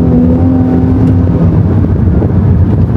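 A Mercedes SLC 43 AMG's exhaust burbles with a loud, steady, close rumble of soft bubbling pops, accompanied by wind buffeting.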